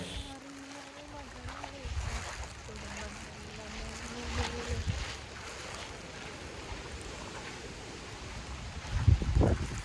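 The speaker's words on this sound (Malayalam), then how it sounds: "കൊടുങ്കാറ്റാണ് ഗൈസ്, കൊടുങ്കാറ്റാണ് ഇവിടെ." Strong gale wind roars steadily with gusty buffeting and rushing water at Kakkadampoyil, a motor hum underneath and a few distant voices.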